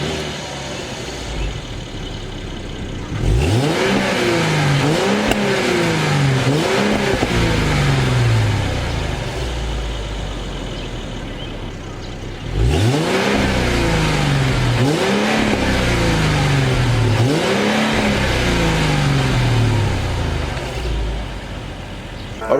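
A 2016 Mercedes-Benz E350 pulls away hard twice, each run climbing through several upshifts with rising and falling engine tone, loud and close, separated by a quieter stretch.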